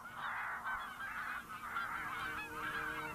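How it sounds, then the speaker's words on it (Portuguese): Geese and ducks in open fields near Altenberg, honking continuously in overlapping calls, a loud flock heard at moderate distance with no talk. "Depois das gralhas, Laurence passa a observar os patos e os gansos que vivem nos campos perto de Altenberg"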